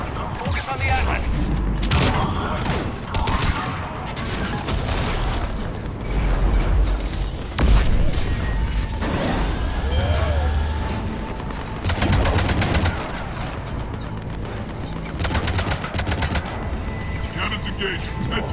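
Heavy, continuous cannon fire in the video game Mass Effect 3 Legendary Edition booms and rattles in rapid bursts, loud and dense, with voices talking beneath the barrage.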